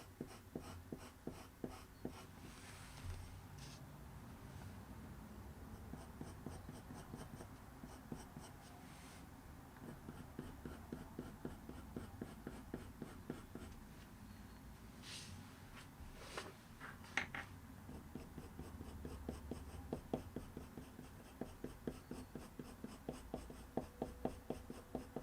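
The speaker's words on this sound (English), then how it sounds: "I'm just going to crisscross some of these fur strokes a little bit more" Colored pencil hatching on paper, crisscrossing short fur strokes for a black cat's eye, gives a steady run of close, scratchy strokes in quick rhythmic bursts with no talking.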